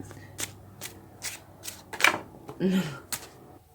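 Tarot cards riffle and slap through a shuffle in brief bursts, with soft card snaps and flicks recurring at irregular intervals, close and moderately loud, with a voice murmuring in places.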